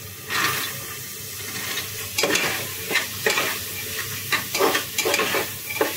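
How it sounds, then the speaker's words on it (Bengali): Soaked chickpea dal tipped into a pan of frying ground cardamom, cinnamon and cumin paste, giving a soft sizzle with scattered wet splashes and stirring scrapes at a moderate, close level. "এখন আমি ডালগুলা ঢেলে দিব।"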